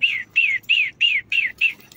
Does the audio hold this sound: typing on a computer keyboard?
no